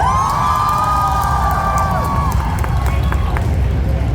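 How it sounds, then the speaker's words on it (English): Loud, sustained cheering and whooping from a big anime convention panel audience, a continuous roar of voices with high shouts cutting through. "can I get a round of applause for everybody up here?"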